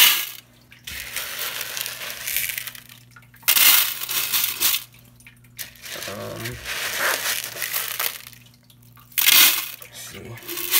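Gravel poured from a bowl into a small 1.5-gallon freshwater fish tank, heard as several bursts of rattling, crunching stones spaced by short pauses, fairly close.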